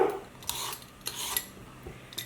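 Peeler scraping along a cucumber skin for ceviche, a few short rasping strokes with soft clicks between them, close and fairly quiet, no talking.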